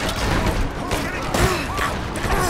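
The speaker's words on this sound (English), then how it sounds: "Who the fuck is shooting at me?" Gunfire in the video game Rise of the Tomb Raider, dense rapid shots and impacts crowding together in a loud chaotic firefight, with a voice speaking over it.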